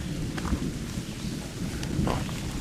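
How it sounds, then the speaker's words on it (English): Low, faint thunder rumbles far off at an old stone quarry in New England, a soft continuous roll with no voices. "We can still hear the thunder."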